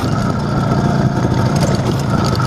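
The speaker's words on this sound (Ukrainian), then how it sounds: "Ну, Взагалі мотор гарно, тихенько працює" An IZh Planeta 5 motorcycle engine, recently fitted with a new crankshaft seal, idles steadily and quietly up close, giving a continuous low mechanical hum with no talk over it.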